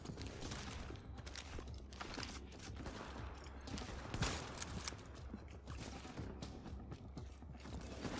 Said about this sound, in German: Oh, er schießt auf mich.